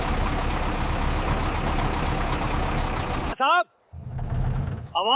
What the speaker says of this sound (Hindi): कोई भारी गाड़ी आ रही है, ट्रक लग रहा है।